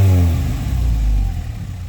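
A Honda F20B engine in a wagon revs hard and then drops back, a loud close roar with a falling pitch settling into a rough idle, all within two seconds.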